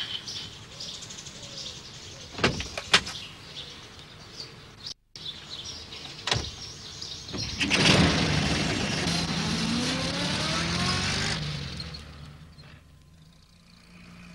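A van drives off along a country road, its engine rising in a long surge that fades into the distance, after a few sharp knocks and clicks, with birds chirping faintly in the background.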